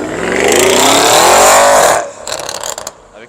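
Audi car at a Lille car meet in a parking lot accelerating away, a loud, rising exhaust roar lasting about two seconds that cuts off into a few sharp pops and crackles.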